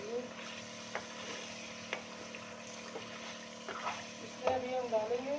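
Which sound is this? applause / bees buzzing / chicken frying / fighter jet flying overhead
chicken frying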